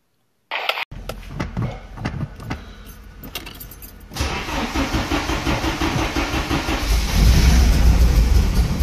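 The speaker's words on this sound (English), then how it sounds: "to finally hear this car started from the first time, it was amazing" Keys jangle and click, then a Porsche 944 engine cranks and catches after a timing belt replacement, settling into a steady, loud idle that revs up toward the end.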